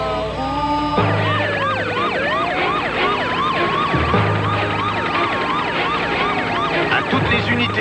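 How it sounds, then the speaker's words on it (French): A police car siren wails in a loud, continuous sweeping cycle, rising and falling repeatedly over low engine rumble and traffic in a bus hostage drama. "ici le commandant de brigade en voiture bleue avec les feux et la sirène"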